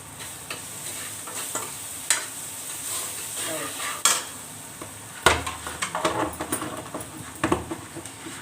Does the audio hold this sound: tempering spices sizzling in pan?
yes